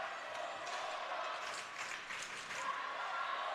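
Spectators at a women's NCAA college hockey quarterfinal keep up a crowd chant with rhythmic clapping, a steady, moderately loud rumble of many voices echoing around the rink.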